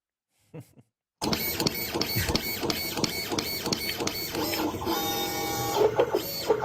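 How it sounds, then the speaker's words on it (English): After a moment of near silence, a printer starts up loudly with rhythmic mechanical clicks and whirring as the print head moves back and forth. "This is like a printer, like a machine that's printing like some sort of drawing."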